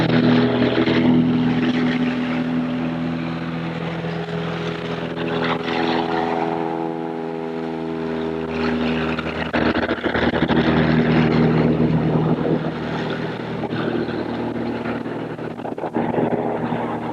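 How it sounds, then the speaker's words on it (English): A float plane revs its propeller engine for takeoff from the water, a loud steady drone that holds for many seconds, with the engine tone shifting slightly as it gathers speed. "The seaplane going to take off now."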